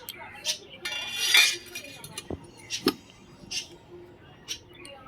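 Chicken meat being cut at home with a knife and utensils, sparse clinks and metallic chinks of blade against dishes sounding close by, separated by quiet pauses.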